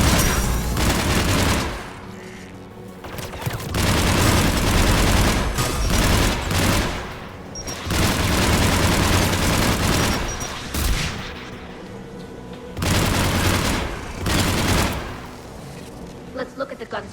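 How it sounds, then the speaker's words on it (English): Loud, sustained bursts of automatic fire from the AA tower guns in Mass Effect 3 Remastered, coming in several long volleys separated by short lulls, with heavy low-end thuds mixed into the rattle. "There! The guns protecting the tower!"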